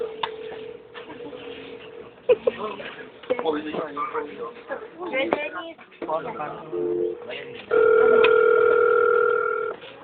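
Tones ring from a mobile phone: a steady electronic beep plays early, then a louder sustained two-pitch tone near the end, with someone talking nearby in between.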